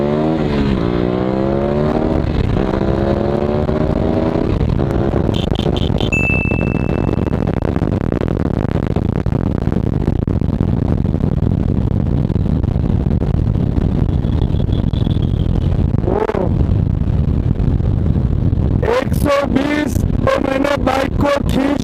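A KTM Duke 250 motorcycle fitted with a larger 60-tooth rear sprocket accelerates hard, its engine climbing through rising revs with gear changes, loud and close, then easing off before a few sharp bursts near the end.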